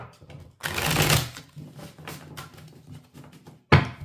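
Tarot cards being reshuffled by hand, papery riffling bursts in two close bouts with a sharp final snap of the deck.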